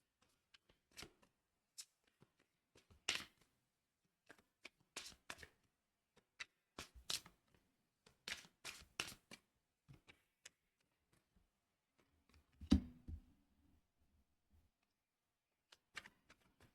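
Tarot and oracle cards are handled and laid out one by one, giving soft scattered slaps and flicks in irregular bursts, with a louder thump near the middle, close and quiet, with no talking.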